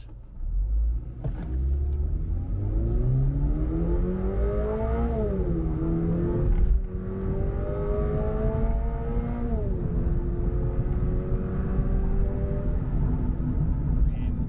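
A 2023 Toyota GR86 sports car accelerates hard from a standstill during a timed run, its engine note climbing through several gears with rising pitch and short dips at each shift, loud and close from inside the cabin.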